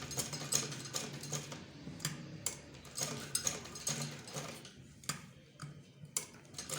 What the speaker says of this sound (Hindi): गुलाई में आपने हाथ से मशीन चलानी है